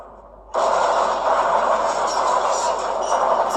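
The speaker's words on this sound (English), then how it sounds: "Did they use a full-size train for that stunt?" A full-size train thunders in suddenly after a brief quiet moment, a loud, steady, broad rumbling roar from a film stunt scene that continues to the end.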